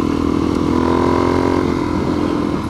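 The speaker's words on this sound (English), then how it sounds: "I just love the sound of this new exhaust." A motorcycle fitted with a new exhaust runs loud and close with a deep, throaty exhaust rumble, holding steady with a slight rev.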